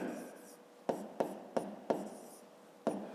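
Pen strokes scratching on paper during a fifth-grade maths exercise, with several short sharp taps and scribbles in an irregular rhythm over quiet room hiss.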